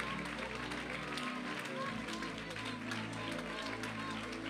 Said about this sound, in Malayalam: കൈയടിക്കുന്നേ, നേരെ കൈയടിക്ക്.